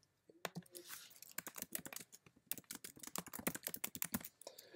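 Fingers tap out a message on a computer keyboard in quick, irregular bursts of close, crisp key clicks with brief pauses between, quiet and with no talking.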